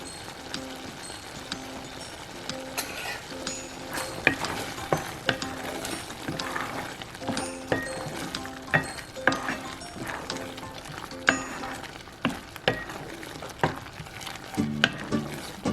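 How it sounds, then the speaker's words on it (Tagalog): Food frying in a pan with coconut milk as pepper is stirred in for a Filipino shrimp dish, a steady close sizzle with repeated clinks and scrapes of a utensil, no talking. "Haluin lang natin ang konting paminta."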